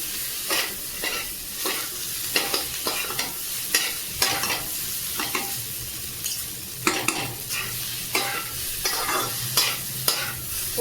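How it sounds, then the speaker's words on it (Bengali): Maggi noodles stirred in hot oil in a pan, a steady close sizzle broken by frequent sharp scraping strokes of the spoon in an irregular rhythm, with no talking. "ভালো করে এটা রান্না করে নিতে হবে নেড়ে চেড়ে"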